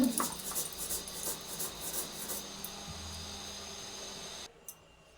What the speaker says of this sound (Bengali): আমার মশলাটা বাটা হয়ে গেছে